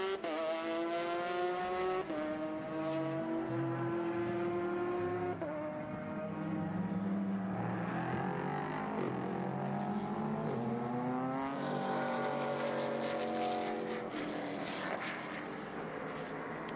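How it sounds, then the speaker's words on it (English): A race car engine roars at speed with a steady, harmonic tone that climbs and drops through gear changes, loud and continuous with no talking. "It's amazing to listen to the tone of the engine."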